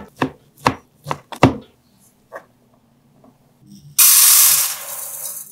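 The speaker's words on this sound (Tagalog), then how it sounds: "9 na pirasong siomay naman ang hihiwain ko." A knife chopping nine pieces of siomai on a cutting board, four or five sharp close knocks in quick succession followed by a couple of lighter taps, then a sudden loud hiss of something poured in.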